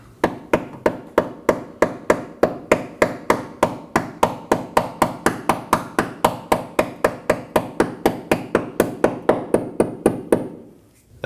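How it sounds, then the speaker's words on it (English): Hammer tapping a brake hose retaining clip into place while replacing a rear brake hose on a 2015-2023 Nissan Maxima; steady, evenly spaced sharp metallic taps, about three per second, close and loud, with no talking. "And lightly tap it on with a hammer."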